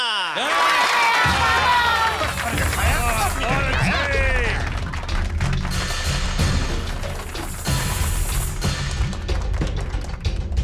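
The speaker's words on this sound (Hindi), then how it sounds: "तालियां।" An audience cheers and claps for a young martial arts performer about to smash a block of ice, with excited shouts and scattered thumping bursts mixed with voices on stage.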